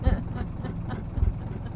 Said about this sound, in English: don't that engine sound lovely?